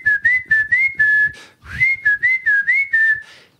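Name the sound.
imitated whistle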